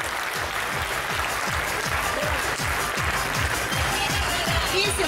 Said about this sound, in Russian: Ух, и громкие-громкие аплодисменты.